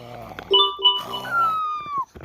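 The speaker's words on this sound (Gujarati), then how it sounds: "શિયાળ રોવે છે" A jackal howls close by in a jungle setting, giving one wavering cry that slides steadily downward and fades after about a second and a half, with faint scattered noises around it.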